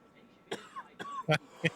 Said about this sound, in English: Sorry about the coughs.